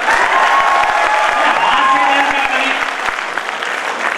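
Sustained applause from an audience at a Hindi-Urdu kavi sammelan and mushaira at a university, a dense continuous wash of many hands clapping with crowd noise, loud and steady throughout.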